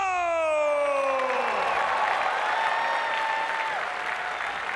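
Crowd at a Singapore martial arts event applauds and cheers for fighter Brian Choi, sustained dense clapping throughout while an announcer's amplified voice rings out over it at the start.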